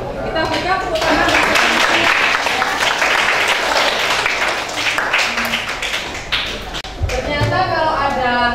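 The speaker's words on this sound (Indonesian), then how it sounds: "Kita buka tepuk tangan." An audience claps together after a group discussion in a school lesson, a dense, loud burst of applause that runs through most of the stretch, with a few voices mixed in.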